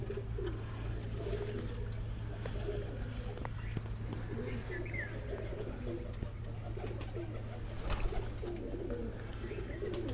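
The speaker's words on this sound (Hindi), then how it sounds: "ये दोस्तों ये चारों कबूतर जो हैं" Pigeons cooing at a home pigeon loft: soft, repeated low coos from several birds run through the whole stretch, along with an occasional chirp and a constant background hum.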